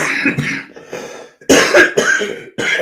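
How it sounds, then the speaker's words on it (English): A man coughs hard in short harsh bursts, close to the microphone, about five separate coughs with brief silences between them. "Almost made it through today without coughing and hacking up a lung"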